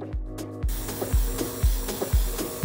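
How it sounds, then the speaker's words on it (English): An airbrush sprays red paint onto a sneaker, a loud steady hiss with regular pulsing thumps about every half second. "Let's go ahead and lay down our paint using our airbrush."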